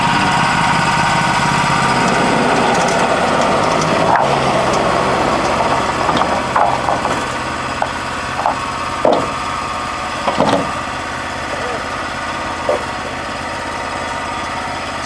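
A Wood-Mizer sawmill runs on its brand new engine, a loud continuous drone with sharp knocks and clunks of timber handling scattered over it, close by and without talk.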